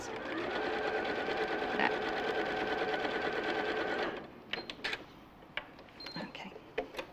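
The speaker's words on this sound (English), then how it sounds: "So you just stitch all the way around." A sewing machine runs steadily while stitching a line through fabric, a continuous mechanical whir lasting about four seconds before it stops, followed by light handling clicks and a brief voice.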